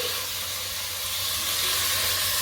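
Bone-in mutton frying in hot oil, a steady loud hiss and sizzle that holds without a break, close up and rising slightly toward the end, no voices.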